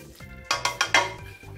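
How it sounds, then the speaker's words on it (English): Ingredients mixed together in a pan after a liquid has reduced by half, with four quick scraping, clinking strokes of a utensil against the pan, close and moderately loud, over a low background hum. "And we mix it all up."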